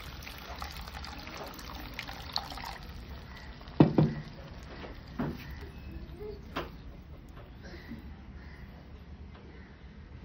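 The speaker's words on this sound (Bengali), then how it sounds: "এবার এখানে আমি পরিমাণ মতন জল দিয়ে দেবো।" Water is poured into a pan of fried spice masala for a Doi Katla yogurt fish curry, giving a faint, steady trickle with a few soft splashes and clinks. No one speaks.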